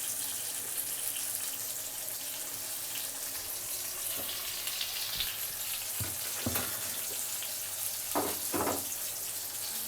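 Oil sizzles and crackles in a pan while ivy gourd masala curry cooks, a steady close hiss with a few sharp clinks and spatters near the end.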